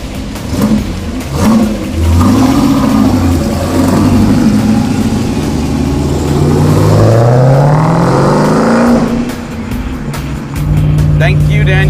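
A car engine on a One Lap of America road trip revs and accelerates, its pitch climbing steadily through the gears, loud and close with a brief lift before picking up again; voices are present at moments.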